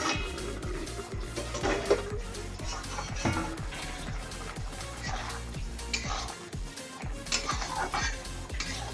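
A lid is lifted off a pan of papaya curry and the contents are stirred, giving a series of close clattering scrapes and knocks against the pan in an irregular rhythm with no talking.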